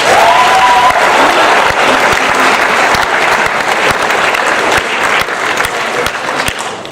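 Loud, dense applause from the audience at a fall sports awards ceremony holds steady, with a few sharper individual claps standing out as it slowly thins toward the end.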